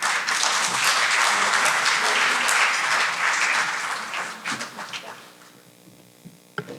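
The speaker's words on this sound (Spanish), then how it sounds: "pido un fuerte aplauso" An audience at a human rights and business conference breaks into loud, dense applause that gradually thins into scattered individual claps, with a low electrical hum underneath.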